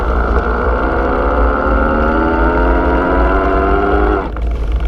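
An Electric Bike Outfitters Mountaineer mid-drive e-bike motor in low gear climbs a driveway with a loud, steady electric whine. Its layered tones slowly drop in pitch as it works uphill, then cut off abruptly near the end.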